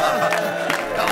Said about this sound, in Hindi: बजाइए, जोर से ताली बजाइए।